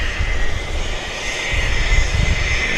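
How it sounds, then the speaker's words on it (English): A WestJet airliner taxis onto the runway at Vancouver airport, its jet engines giving a steady, loud roar with low rumble that swells slightly toward the end, heard alone without voices. "Now we've got the Westjet taxiing onto the runway."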